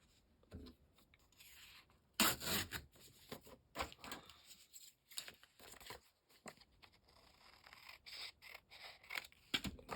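Paper is trimmed with scissors for a bird-themed junk journal, close and quiet, with sharp snipping bursts scattered among soft rustles and handling noises, no talking.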